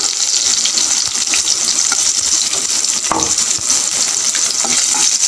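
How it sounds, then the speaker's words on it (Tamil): Chopped large onion hitting a hot tawa for soyabean 65, giving a steady, close sizzle and crackle with a few light clinks, no voices over it. "ஒரு பெரிய சைஸ் ஆனியனை பெரிய வெங்காயம் நல்லா கட் பண்ணி இதில் போட்டுக்கலாம்."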